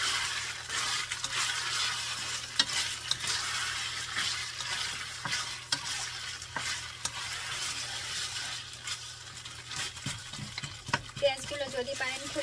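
Sliced sausages fry with tomato ketchup and onions in a pan, giving a soft, steady sizzle with intermittent spatula scrapes and light clinks of utensil against metal.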